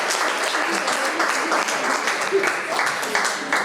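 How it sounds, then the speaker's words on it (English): Audience applause at a live talk or event, a steady, dense wash of clapping filling the whole stretch at an even level without letting up, with no break or obvious single claps standing out. "I think we should deserve a round of applause"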